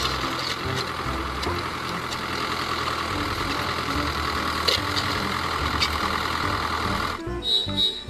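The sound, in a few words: tractor engine running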